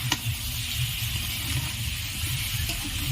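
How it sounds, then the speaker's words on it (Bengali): Young jackfruit and shrimp being sautéed in a pan for the Bengali dish echor chingri: a steady, soft sizzle and hiss, with a few light scrapes of stirring, and no speech. "এটা আমি ভালো করে এইভাবে কষিয়ে নেব"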